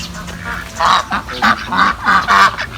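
Several ducks quacking in repeated bursts, fairly close and loud, with short pauses between the calls.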